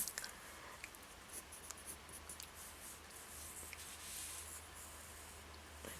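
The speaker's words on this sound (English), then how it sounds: "I'm drawing with the 4B pencil, so you can see there are marks left on the paper" A 4B graphite pencil drawing a teapot on paper, its close, quiet, steady scratching and soft strokes running continuously with short swooping bursts, no voices over it.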